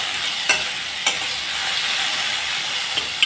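Eggplant pieces frying in a pan with spices, giving a steady close sizzle and hiss throughout with a few brief stirring clicks.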